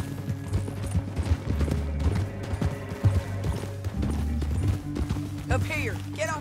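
Horse hooves clip-clop in a steady, uneven rhythm during Red Dead Redemption 2 gameplay, fairly close and continuous beneath a voice talking over them.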